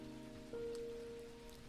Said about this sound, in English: Can you hear now how the rain sings?